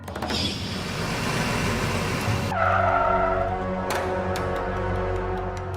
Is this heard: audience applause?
no